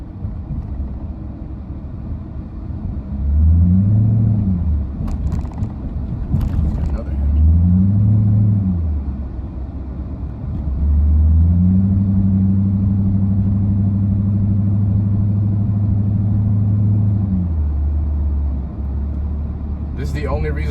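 A 2006 Chrysler 300 with the Hemi V8 on a road drive, its engine note rising and falling in low, steady drones as it accelerates and cruises, with muffled cabin rumble throughout.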